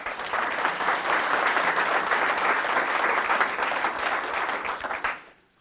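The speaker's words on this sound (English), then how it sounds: "So let's give them a round of applause." A room full of people applauding at a county political candidate forum, sustained, even clapping at steady volume for about five seconds before it quickly dies away.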